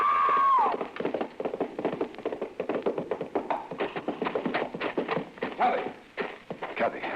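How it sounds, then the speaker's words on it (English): A horse gallops hard across a corral during a race, its hoofbeats a fast, close, irregular clatter that follows a brief shout at the start. "The horse stumbled over that lower bar and threw her."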